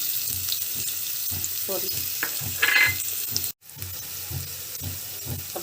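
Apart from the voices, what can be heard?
crushed garlic and cumin frying in pan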